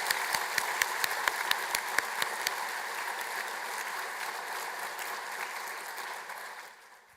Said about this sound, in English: Please join me now in a round of applause to recognize everyone that's here today.